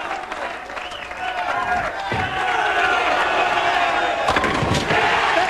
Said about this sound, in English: the fans are in constant clapping mode here tonight